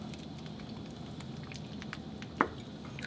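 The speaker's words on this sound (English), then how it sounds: "then I'm going to add this curry mixture and stir this" Korean curry mixture being stirred in a pot, a steady soft bubbling and squishing texture close by, with a sharper scrape of the spoon against the pot near the end.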